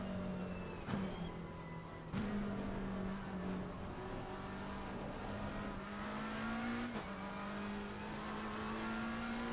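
A GT race car engine in Assetto Corsa Competizione drones steadily at high revs, stepping up through several gear shifts with brief dips between them, loud and continuous with no talk.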